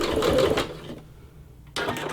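A Singer C430 sewing machine stitches through denim, a short burst of fast, close mechanical whirring that stops, a brief quiet pause, then the motor starts again.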